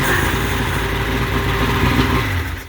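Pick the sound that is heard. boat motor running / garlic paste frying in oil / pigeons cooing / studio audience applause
boat motor running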